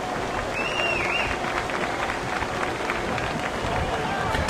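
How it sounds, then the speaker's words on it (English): A football game crowd in the stands claps in a steady round of applause for a player walking off the field. A thin whistle sounds early, and background chatter runs underneath. "Let's give that young man a big round of applause."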